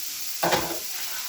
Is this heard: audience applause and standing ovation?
no